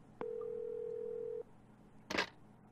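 A telephone dial tone sounds in the PS1 game Clock Tower after a call ends, one steady electronic hum lasting just over a second, followed after a pause by a brief burst of noise.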